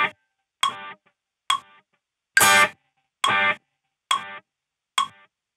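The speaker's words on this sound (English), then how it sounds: "the delay repeats match the BPM set to 69" Distorted electric guitar through a delay pedal set to 870 milliseconds at 69 BPM, with short plucked notes and echo repeats spaced evenly in time, plus one longer, louder strummed burst in the middle.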